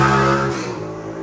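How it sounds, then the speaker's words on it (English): Loud motorcycle exhaust roars past outdoors, a strong engine drone that swells and then fades as the bikes move away. "dang motorcycles and loud exhaust"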